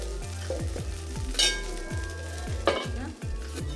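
Mixed vegetable dosa-paddu batter cooks on a pan over a low flame with a steady, close sizzle. A couple of utensil clinks cut through, and rhythmic background music plays underneath.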